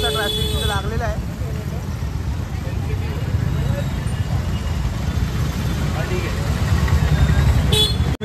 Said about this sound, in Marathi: तुम्ही बघू शकता डेंजर असा ट्रॅफिक तिथे लागलेला आहे